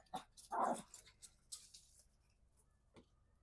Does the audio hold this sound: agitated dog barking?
yes